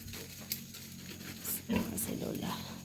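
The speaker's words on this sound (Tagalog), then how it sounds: "Ilang baboy." Pigs grunting in a rural hometown setting, with several low oinks and snorts close by, mixed with people talking.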